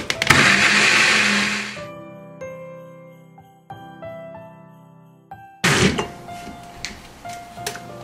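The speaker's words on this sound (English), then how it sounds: "we're just gonna blend this until everything is incorporated and smooth" An electric blender whirs loudly as it blends butter and sugar for a vegan Jamaican rum fruit cake, cutting off into a ringing resonant hum, then briefly roaring again with rattling clatter.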